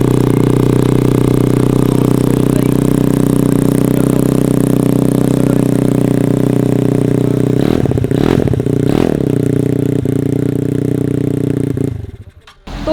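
A dedicated racing motorcycle built for a scooter race, fitted with a free-flow exhaust, idles loud and close with a steady harmonic drone, then gets two sharp revs before the engine cuts and dies away.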